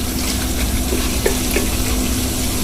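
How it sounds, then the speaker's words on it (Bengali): Curry with taro and hilsa fish sautés in hot oil in a pan, a dense steady sizzle with occasional stirring scrapes, close and loud, no voices. "এটা আমি এখন একটু দুই তিন মিনিট আমি কষায় নেব তেলে"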